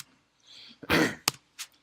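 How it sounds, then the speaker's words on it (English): A short throat-clearing cough close to the mic, followed by two brief sharp coughs in quick succession. "I'm also getting over a cough, so just in case I cough, I'm sorry."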